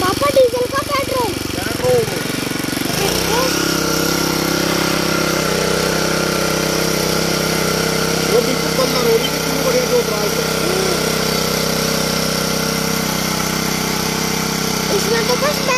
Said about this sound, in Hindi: दोस्तों ये है छोटा सा होंडा का कल्टीवेटर।